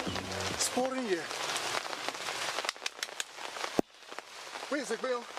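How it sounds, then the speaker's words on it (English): Heavy rain pours down outdoors in a drama scene, a dense continuous hiss of drops striking surfaces, with brief voices calling out over it near the start and end. "It's pouring here."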